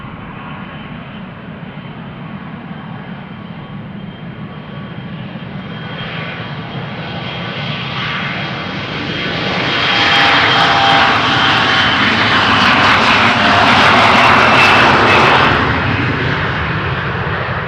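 Boeing 777 jet airliner at Amsterdam Schiphol Airport, a loud sustained engine roar that builds as it passes, peaks with a harsh rumbling hiss, then begins to fade, heard alone without talk.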